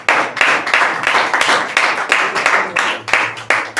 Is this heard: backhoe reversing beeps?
no